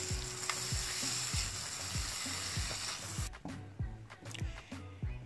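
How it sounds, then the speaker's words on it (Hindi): Lassi frying and sizzling in a hot pan for curry pakora while a utensil scrapes and stirs continuously, with repeated rhythmic scrapes over a steady sizzle that thins out partway through. "और उसके साथ ही फिर मैं लस्सी डाल दूंगी। और इसको ऐसे मुसलसल हिलाती जाऊंगी।"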